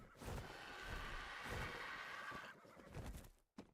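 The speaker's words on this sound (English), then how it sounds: "This is a max level horse." A max-level horse in a video game lets out a long, loud whinny up close, with faint hoof clip-clops beneath, ending with a short snort.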